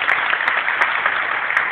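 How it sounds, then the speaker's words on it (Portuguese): A studio audience at a comedy show claps in a steady, even burst of applause, fairly loud and close, with no voices over it. "Vamos bater palmas pra ele?"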